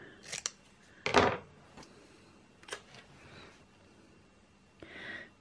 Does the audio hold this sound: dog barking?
no